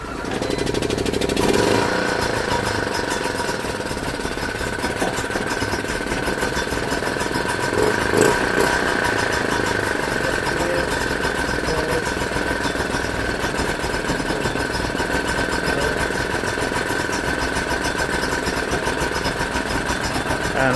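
A Vire 7 A1 military-spec boat engine idling after being started, a steady loud rhythmic clattering chug that runs evenly for about twenty seconds, close up, with a brief knock near the start and midway.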